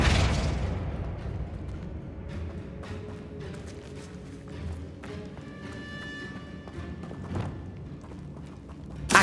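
A Flipendo spell cast in Hogwarts Legacy, heard as a sharp burst followed by a run of magical pops and whooshing effects over a low game-music bed, with a second surge near the end.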